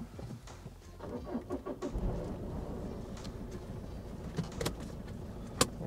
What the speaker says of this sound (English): let me just move the car